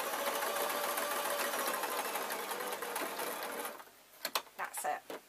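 A sewing machine stitches steadily through thick fabric for a unicorn soft toy, its fast whirring run lasting several seconds before stopping, then a few handling clicks and knocks.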